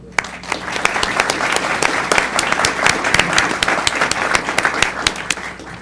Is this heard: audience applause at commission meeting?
yes